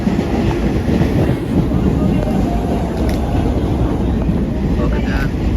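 A subway train arriving at a Brooklyn station rumbles loudly nearby, with a heavy low roar, rattling wheels and wind buffeting the microphone.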